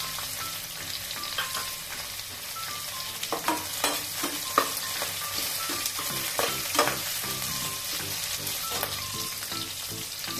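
Sliced onions fry in a pan for coconut rice with a steady, close sizzle, broken by scraping stirs and small pops throughout.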